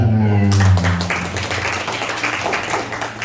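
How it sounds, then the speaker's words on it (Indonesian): An audience claps at a motivational Ramadan gathering: after a brief opening tone, a full round of hand clapping from a room of people fills the space, steady and fairly loud to the end. "Tepuk tangan."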